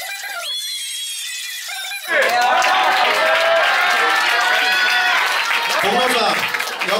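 Applause and cheering erupt from an audience at a graduation ceremony award, a loud, sustained burst of clapping and shouting that starts suddenly partway through and continues after a stretch of talk.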